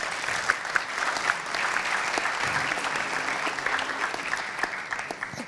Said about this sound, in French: Je vous demanderai d'applaudir nos invités.